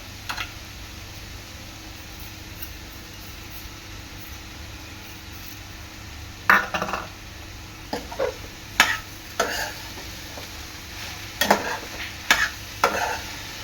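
Grated carrot halwa with sugar stirred in a pan, a faint low sizzle underneath and a run of sharp scraping, clattering strokes in the second half.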